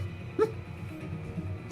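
A sleeping female dog lets out a single short whimper while dreaming, a brief high whine in an otherwise quiet room.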